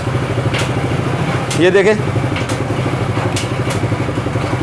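A motorcycle engine idles with a steady low chugging as the bike's gear shifting is checked after a clutch adjustment, and a brief rise in revs comes midway. Someone talks over it throughout.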